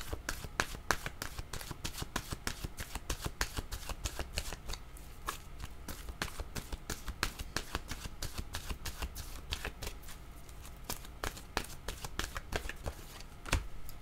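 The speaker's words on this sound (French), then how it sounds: "Je vais demander une carte de mon oracle de l'âme intuitive." A deck of oracle cards is shuffled by hand in a long run of crisp riffling snaps and flicks, steady and close, with a voice talking quietly at points.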